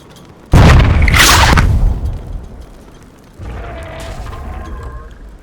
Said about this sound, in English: Fire! Fire the cannon!